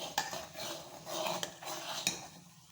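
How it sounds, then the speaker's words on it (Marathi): Ragi (nachni) ambil with crushed garlic stirred in a pot, a steady scraping swish of the spoon with a few sharp knocks against the pot's side, close and fairly quiet, no talking. "थोडंसं तर असं ढवळूया"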